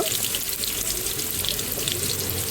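Tap water runs steadily into a kitchen sink while cubed potato pieces are rinsed, a close, continuous splashing rush with no voices.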